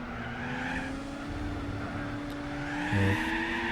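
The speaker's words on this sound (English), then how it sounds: "the car is still wheel spinny as fuck" A race car in the Gran Turismo 4 video game spins its wheels, with a steady engine drone and a long tire squeal, and a brief low thump near the end.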